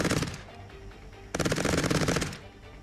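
Automatic gunfire from the Cepheus Protocol strategy game, with a short burst, a brief pause, then a longer rapid stream of shots, loud and close.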